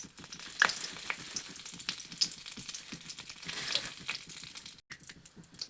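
Black cumin, whole dried chillies and a bay leaf crackle and sizzle in hot oil, a steady frying hiss with scattered pops and light stirring scrapes close by.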